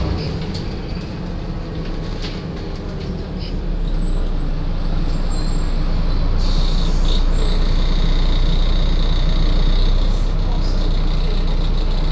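Volvo ALX400 double-deck Dublin Bus driving through city streets, a steady low engine rumble and road roar throughout, growing slightly louder midway, with a brief high hiss that fits an air brake release; no talk.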